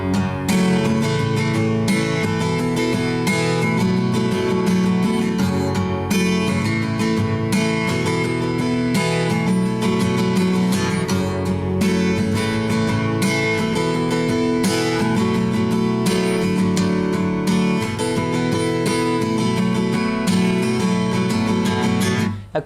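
Guitar playing the intro of a song, a steady, dense strummed pattern running continuously at an even loudness with no voice.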